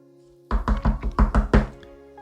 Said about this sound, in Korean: 그는 문을 두드렸어요.